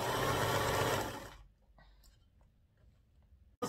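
A sewing machine stitches a wig cap with a close, steady motor whir for about a second and a half, then stops. Faint clicks and handling noises follow in near silence.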